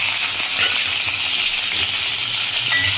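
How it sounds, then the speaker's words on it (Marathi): Cumin seeds and green chillies tempering in two spoons of hot oil in a heated kadhai, giving a steady, close, continuous sizzle and crackle with a few sharp pops, no talking. "2 चमचे तेल मी ह्याच्यामध्ये फोडणीसाठी टाकत आहे. जिरं टाकत आहोत आपण. मिरच्या आपण टाकत आहोत."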